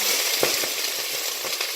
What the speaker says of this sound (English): now this is going to make a loud sizzle sound.